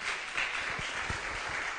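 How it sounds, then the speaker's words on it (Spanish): A church congregation claps for the Lord, a quiet, fairly brief spell of scattered hand claps rising and falling, with no voices heard. "¿Se anima a darle un aplauso bien fuerte al Señor?"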